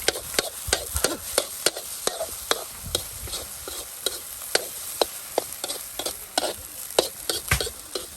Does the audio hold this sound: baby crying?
no